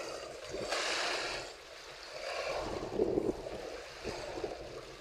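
Waves wash and surge in a steady broadband rush with wind noise, swelling and easing over a few seconds, no voices.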